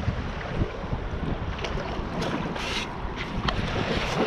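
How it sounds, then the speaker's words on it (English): Strong wind gusts and buffets the microphone out on the bay, drowning out any clear paddle strokes as a person paddles a boat into the wind. The noise is continuous and fairly loud, with no talking. "Guy's paddling into the wind."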